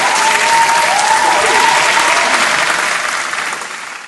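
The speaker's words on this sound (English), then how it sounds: "Let me applaud him." Loud, dense applause from a football crowd at a cup match between University of Pretoria and Mamelodi Sundowns, a sustained wash of clapping after a goalkeeper's save, easing slightly near the end.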